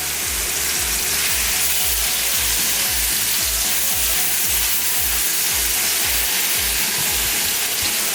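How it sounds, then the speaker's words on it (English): Meat sautés in hot oil for a Philly cheesesteak, a loud, constant sizzle and crackle that continues steadily with a faint rhythmic stirring or scraping beneath it and no talking. "The oil is hot, just put on your meat. We're gonna saute this"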